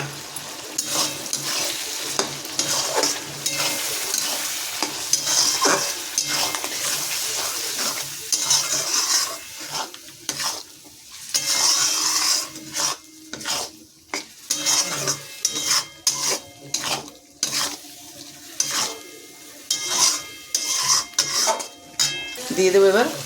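Ginger, garlic and onion paste fries with salt, turmeric and chilli powder in a pan, a constant sizzle under repeated scraping and stirring clatter of a utensil against metal, growing more choppy and percussive toward the end.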